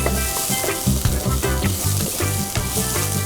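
Onion and corn samosa filling sautéing in a pan, a loud, continuous sizzle with a few stirring scrapes mixed in, close up and with no one talking.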